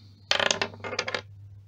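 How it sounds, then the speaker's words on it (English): A single die rolled for a fantasy gamebook, making a brief, close rattling clatter of several quick bounces that lasts about a second, heard alone. "And for luck, roll 1 dice and add 6."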